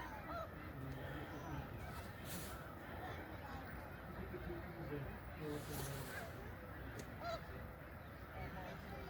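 Massed snow geese on migration at Middle Creek Wildlife Refuge, a thick unbroken roar of honking and yelping calls from a vast flock, steady and fairly distant with occasional nearer calls.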